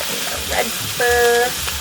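Red pepper sizzles steadily as it hits a hot pan, a close, constant frying hiss with a brief tonal squeak mid-way.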